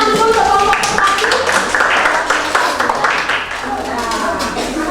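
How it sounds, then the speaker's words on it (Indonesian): Classroom clapping for the dove group of pupils, a dense patter of many small hands running steadily through the clip beneath a teacher's voice and lively children's chatter. "Kelompok merpati, tepuk tangan dulu untuk kelompok merpati."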